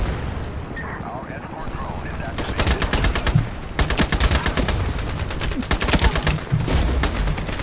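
Gunfire in the shooter Ironsight, dense rapid automatic bursts firing in repeated volleys, loud and close, with speech mixed in among the shots.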